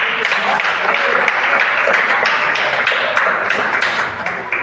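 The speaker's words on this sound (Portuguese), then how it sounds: "E mais palmas para Jesus." A church congregation claps for Jesus during a worship service, a dense, steady wash of many hands that carries on for several seconds, with a voice speaking over it.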